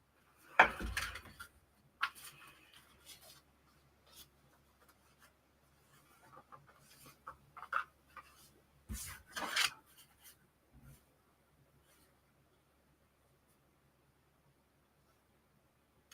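Soft, scattered rasping and rubbing of tarot cards being shuffled, in short bursts separated by quiet pauses, close by.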